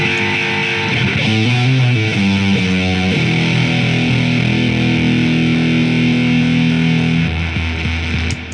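A thick, fuzzy electric guitar through a fuzz effect plays a few chords, then holds a long saturated note that buzzes steadily before cutting off near the end.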